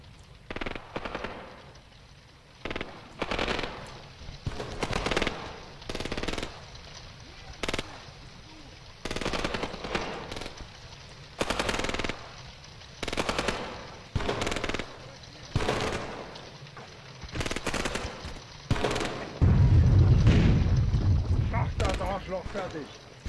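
Soldiers in the Graviteam Tactics: Mius Front war game fire at will, with repeated bursts of machine-gun and rifle fire in short rhythmic volleys that are moderately distant, broken by brief pauses, with a heavier rumbling blast near the end.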